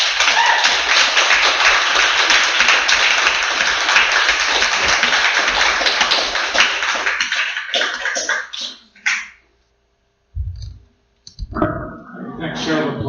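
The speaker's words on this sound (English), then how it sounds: "Thanks, show of applause." An audience applauds in a dense burst of clapping that lasts several seconds, then thins and dies away before a voice speaks.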